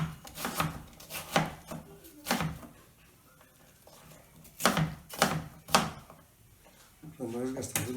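Knife chopping onion on a board in a kitchen class, crisp clustered cuts in bursts with pauses between, fairly close, while an instructor talks over parts of it.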